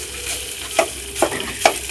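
Momo filling stir-fries in a hot pan under a steady sizzle, with three sharp spatula scrapes landing at roughly even intervals.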